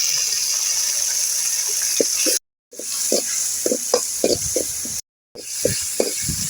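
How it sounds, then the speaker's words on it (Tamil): Ginger garlic paste sizzles steadily in a hot pan, with a constant bright hiss broken by scraping stirs and two short silent gaps. "இஞ்சி பூண்டு பேஸ்டையும் போட்டு அதை கூட வதக்கிக்கலாம்"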